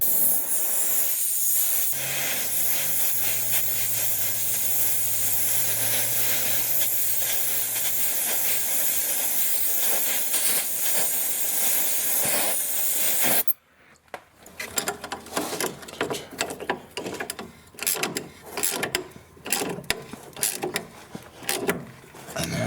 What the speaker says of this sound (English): here I'm going to heat the bolt to get it to turn